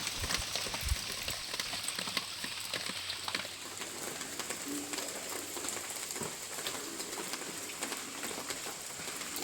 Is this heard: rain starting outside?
yes